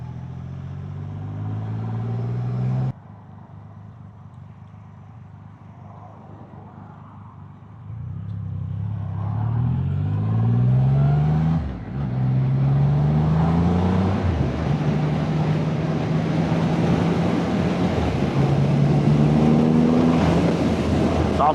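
A Triumph Rocket 3 GT Storm motorcycle under way, its engine droning steadily and rising through the gears with wind rush, loud and continuous after a brief quieter stretch.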